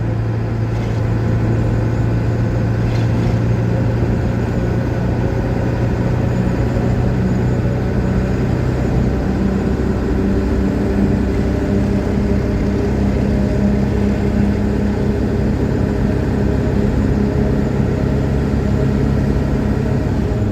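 A 1977 Ford HighBoy truck fitted with a 7.3L Powerstroke diesel drives along with a steady, loud engine drone, and the pitch drops subtly as it shifts gears partway through.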